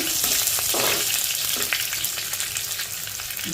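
Green chilies frying in hot oil for a Telugu dondakaya pesarapappu curry, giving a steady close sizzle with a few stirring scrapes.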